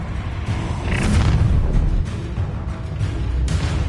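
The Incendio fire spell bursts in the video game Hogwarts Legacy: a dense, rumbling whoosh of flame with booming impacts, loud and sustained throughout, with no voices over it.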